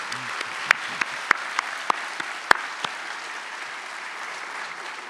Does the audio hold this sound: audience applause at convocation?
yes